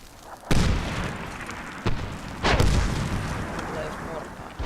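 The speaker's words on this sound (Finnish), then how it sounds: "Tulee just mortaa." Incoming mortar fire in the video game Medal of Honor Warfighter, with heavy booming blasts and a continuous rumble of battle, several sharp impacts standing out, and faint speech underneath.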